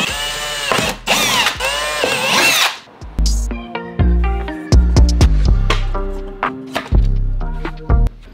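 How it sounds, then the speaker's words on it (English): Inside a Toyota Supra, a power tool whines at high speed for a few seconds, then gives way to a string of sharp knocks, clunks and brief mechanical bursts, loud and close. "we're gonna go ahead and just Dremel all this out, or if you guys have a multi-tool, you can just use a multi-tool and just cut that entire section out"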